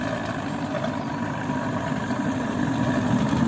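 Evinrude 70 hp outboard boat motors from 1991 idling at a small harbor, a steady close low rumble with constant vibration, loud and unchanging throughout.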